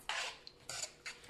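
Metal kitchen tongs are picked up and handled while cream cheese spinach dip is prepared at home, giving a few short clinks and rattles in two or three bursts, close by with no talking.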